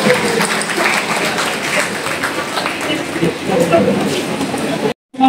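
An audience at a university farewell programme for a retiring sociology professor, Prof. Jesmin Naher, gives dense, continuous applause with a busy crowd murmur underneath, broken by a brief dropout near the end.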